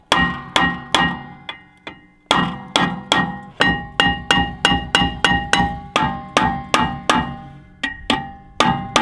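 Heavy metallic hammer strikes on a stuck brake rotor ring out one after another in a steady rhythm, loud and close, each blow clanging with a bright metal resonance.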